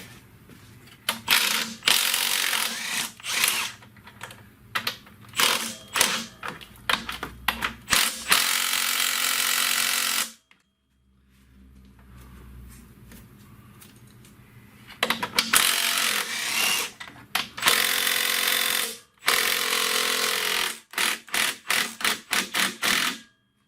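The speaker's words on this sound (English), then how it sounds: "I am going to remove the motor mount up here" Hand tools working on the motor mount of a 2010 Dodge Grand Caravan during an engine swap: repeated bursts of ratchet clicking and mechanical rattling, close, with a quiet pause midway.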